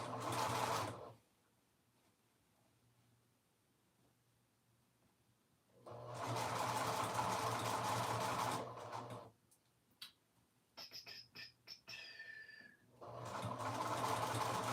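A sewing machine stitches around a dress pocket at a 3/8 seam allowance in several bursts of fast, steady whirring, broken by quiet pauses and a few short clicks and ticks as the fabric is turned.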